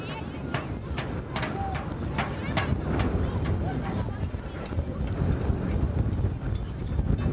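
Strong wind blowing across an outdoor football pitch during a women's second-division match in Iceland, a continuous roaring rush buffeting the microphone, with sharp clicks and crowd or player noise mixed in throughout.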